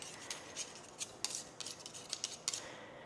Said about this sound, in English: I'm going to mix these with a large spoon and not the whisk.